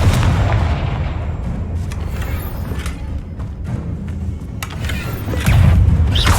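Bombarda spell explosions in the video game Hogwarts Legacy, heavy booming blasts rolling one into another over dense, continuous battle noise, with a louder burst near the end.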